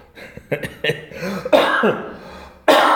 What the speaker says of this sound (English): we cough a lot too.